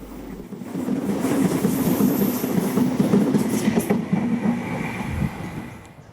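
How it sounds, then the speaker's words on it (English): A City Rail outer suburban electric commuter train passes close by, its wheels rumbling and clattering over the rails in a continuous loud roar that eases slightly toward the end, with no voices. "An outer suburban train from City Rail is seen making its way back to Central Station."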